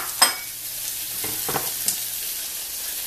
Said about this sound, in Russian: Сейчас мы к фасоли добавляем обжаренные грибы.